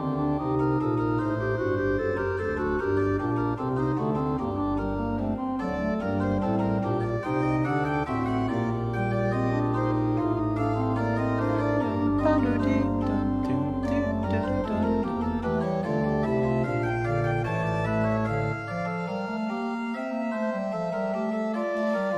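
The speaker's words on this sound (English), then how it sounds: "This sounds a little bit goofy in terms of like the organ stops being used." Pipe organ playing with goofy-sounding stops, a full, continuous chordal passage with moving bass lines and bright upper voices, steady and loud throughout before a brief thinner ending.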